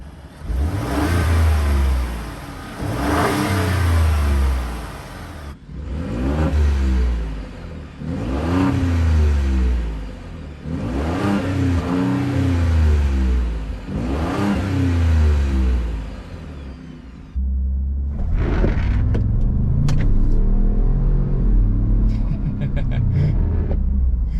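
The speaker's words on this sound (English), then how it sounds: "I just hear the engine, which honestly does not sound bad" A Ford F-150 Tremor's 3.5 EcoBoost engine revs up repeatedly, four rising and falling pulls, then settles into a steady loud drone as the truck drives off.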